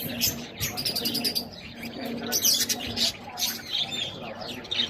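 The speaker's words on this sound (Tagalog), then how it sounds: "Mga birds." Birds chirp at a bee farm in Bohol, with repeated quick tweets and calls from several birds at close to moderate range over a soft background.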